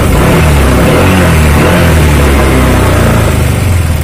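Honda Vario 125 FI scooter engine idling steadily at a raised speed after adjustment, a loud, close, even mechanical hum with a constant low rumble throughout, no voices.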